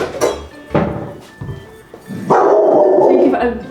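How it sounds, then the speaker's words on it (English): A squash is banged on a hard surface, giving three or four loud, dull thuds at uneven intervals, followed by a longer sustained sound. "it's me banging the stupid squash on."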